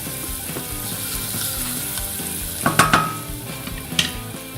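Aromatics sizzle steadily in a cast iron pan, with a few sharp metallic scrapes and clanks from stirring near the end; no voices.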